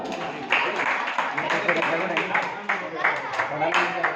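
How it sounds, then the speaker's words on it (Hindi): Children at a Baal Utsav quiz event clap for a participant, a scattered, uneven patter of hands near the listener, with a voice speaking over it. "ज्ञान प्रभु के तालियां।"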